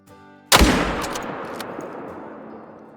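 A single rifle shot aimed at a red deer stag in the hunting video game Call of the Wild cracks loudly after a short quiet lead-in, then rolls into a long, fading echo that carries on for several seconds.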